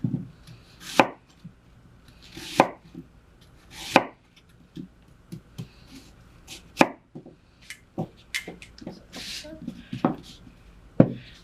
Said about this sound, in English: a quick way is to just cut around the apple